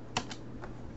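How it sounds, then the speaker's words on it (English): Numbers being typed on a computer keyboard, a few quick, light key clicks close by in a quiet room, one sharper tap followed by softer presses. "now I'm typing in 65"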